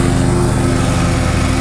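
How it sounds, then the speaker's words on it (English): A lawn mower runs steadily and close by, its even engine drone holding with a constant low hum and no break, and no talk over it. "We got Mama mowing the lawn."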